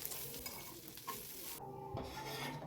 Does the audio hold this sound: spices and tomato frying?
yes